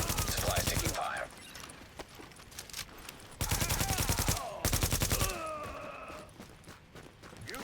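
Automatic weapon fire in The Division plays in loud, rapid bursts broken by quieter gaps. Game sounds and voices carry between and under the shooting.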